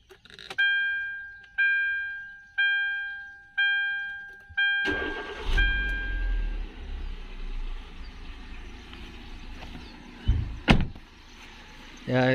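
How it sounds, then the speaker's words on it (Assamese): Inside a Hyundai i20, a warning chime rings four or five times, then the engine cranks and settles into a quiet, smooth idle, with a single thump partway through. "এয়া ইঞ্জিনৰ চাউণ্ড"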